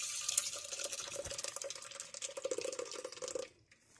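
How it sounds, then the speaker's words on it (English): Pozole liquid pours through a strainer into a pot with a steady trickling, splashing stream that stops abruptly near the end, close and fairly quiet. "So in that same pot, I'm going to strain this in."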